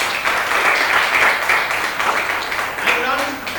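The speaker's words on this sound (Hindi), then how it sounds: "ताली दियो ताको भाई." Applause at a state-level senior science quiz competition in Bhubaneswar, a burst of many hands clapping from an indoor audience that fades toward the end, with a voice speaking over it.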